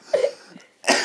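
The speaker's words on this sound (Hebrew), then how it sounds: "זה לא שיעול מזויף." A single sharp cough close to the microphone, followed after a short pause by a second rougher burst, loud and alone with no talking.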